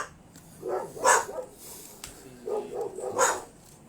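Dogs barking on a Friday night, several rounds of barks in two bursts, moderately loud against a quiet background with no talking.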